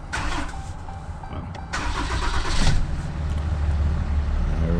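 A 2014 Dodge Ram 3500 with the 6.7 Cummins diesel cranks and fires up, then settles into a loud, close, steady rumbling idle.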